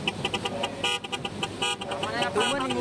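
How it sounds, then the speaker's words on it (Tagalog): A pump boat horn on a trip to Kalanggaman Island blares like a highway truck horn in repeated loud tonal blasts, with voices and boat noise around it. "Kakaiba nga din pala yung nasakyan naming pump boat kasi merong pop-up."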